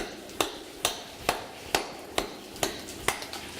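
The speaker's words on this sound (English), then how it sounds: "So I'm going to get to work on some of this rock over here, and I might need a hammer" A hammer strikes rock about every half second while mining quartz-bearing rock, seven sharp ringing taps that are close and clear, with no talk.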